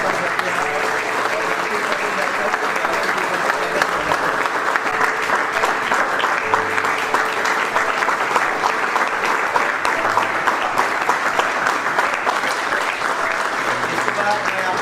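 An audience at an award and welcome ceremony claps loudly and continuously for a junior national bronze medal winner, a dense, unbroken wall of applause with a faint tonal hum running underneath.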